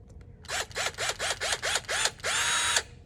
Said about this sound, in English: Let's drill a little more.